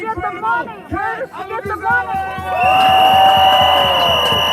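A crowd at an anti-ICE rally in Broadview, Illinois is loud: a raised voice shouts first, then the crowd breaks into sustained cheering and noisemaking that fills the rest of the moment.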